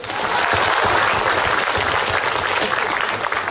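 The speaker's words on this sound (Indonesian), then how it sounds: "Tepuk tangan dulu dong." A studio audience at a comedy talk show claps in sustained, dense applause, loud and close, holding steady from start to end with no break.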